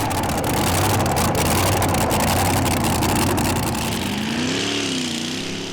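A competition pulling tractor at a Danish tractor pulling championship roars steadily and loud throughout, a dense continuous engine drone with a rising, wavering note toward the end.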